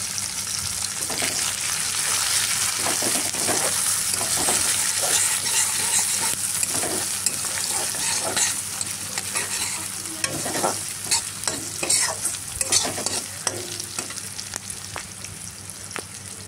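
Chopped onion, nigella seeds, dried red chillies and green chillies frying in oil, a constant close sizzle broken by many sharp scraping stirs of a spatula, growing busier toward the end, with no speech.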